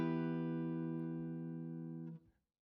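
A single sustained clean electric guitar chord, played through a Twin Reverb replica amp, rings out cleanly and warmly, decaying slowly for about two seconds before cutting off.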